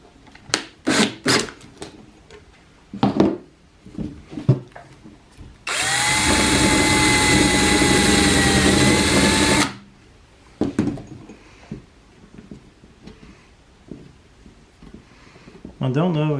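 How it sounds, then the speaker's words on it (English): A power drill bores a taper into a wooden knife stand, a loud steady whine lasting about four seconds, with a person talking before and after amid workshop clatter. "I think I'll try to drill it down in there just a little bit to kind of give it more of a taper at the top"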